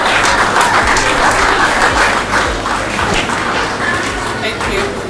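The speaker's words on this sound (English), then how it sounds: "A round of applause for her." Sustained applause from an audience at a youth program, dense and steady clapping filling the room for several seconds as someone speaker is welcomed, with a faint voice underneath.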